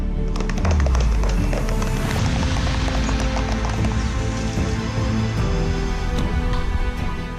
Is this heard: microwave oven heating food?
no